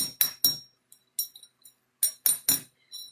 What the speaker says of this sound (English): hammer those ends.